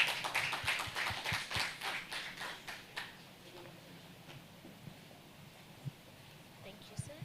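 Conference audience applause as a speaker takes the stage, a moderate burst of clapping that fades out over a few seconds, leaving faint room noise and scattered taps.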